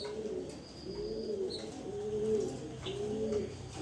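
Grizzle pigeons cooing close by, several soft repeated coos in a steady rhythm with a few faint chirps over quiet background, no talk.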